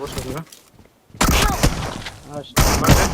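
Bursts of gunfire from a shooter video game, loud clustered shots in two main stretches with a quiet gap between, with voices talking faintly in places.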